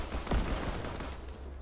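A quick burst of rapid gunfire from a shooter video game, several sharp shots clustered near the start, then fading into quieter background sound.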